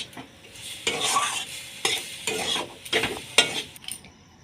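A spatula stirs and scrapes paneer filling for patishapta in a hot pan, in a few distinct bursts of scraping and light sizzling, close and fairly loud, with no talk.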